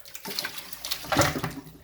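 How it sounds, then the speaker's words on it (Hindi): Hot water being strained off mutton pieces for pulao, a near pouring and splashing of liquid through a strainer with a louder gush midway, no talking. "इसको मैंने छान देना है।"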